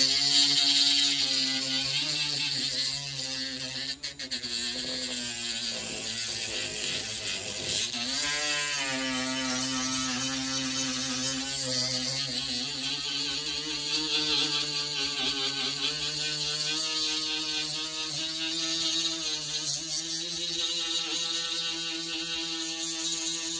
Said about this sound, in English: I got my little die grinder here.